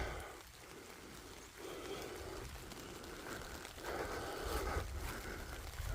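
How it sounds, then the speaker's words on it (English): Rain falling steadily on a Durston Xmid Pro 2-person tent in a campsite, a continuous hiss of drops pattering on fabric with slight swells in intensity and no voices. "It is raining"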